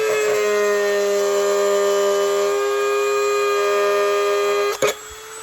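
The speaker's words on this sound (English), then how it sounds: "Okay, I've gone on my Dremel now." A Dremel rotary tool whines steadily while it cuts into a plastic box, holding a loud, even pitch for several seconds before the motor cuts off near the end.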